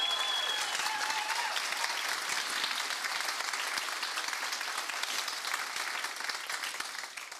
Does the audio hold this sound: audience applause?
yes